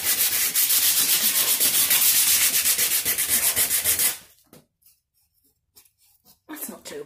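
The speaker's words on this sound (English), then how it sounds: "Okay, so I've got some 400 grit sandpaper here." Sanding with 400 grit sandpaper on a caravan storage box: a loud, steady rhythmic scraping of rapid back-and-forth strokes for about four seconds, then stopping, with faint rustles and brief handling noises after.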